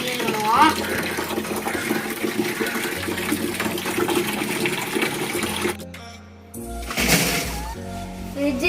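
Water is poured into a fridge box being cleaned for a guppy aquarium, a sustained splashing gush that pauses briefly and then resumes with a fresh burst, close by, while a person talks.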